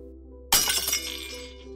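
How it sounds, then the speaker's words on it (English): A glass vial and a syringe strike a street and shatter, one sharp crash followed by a brief tinkling scatter of fragments that fades out over about a second, alone against a quiet low hum. "a vial and a syringe came tumbling out and onto the ground, shattering in the street."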